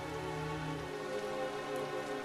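Heavy rain pours down in a forest, a dense, steady hiss of drops hitting leaves and ground. It is close and continuous with a low rumble early on, and no voices are heard.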